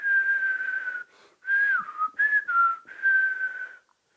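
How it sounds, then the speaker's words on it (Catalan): A person whistles a light melody as the witch Baba Yaga enters her house, a clear, close tune in a few phrases with brief pauses between them. "ni més ni menys que la baba Iagà, que xiulant va entrar a casa seva."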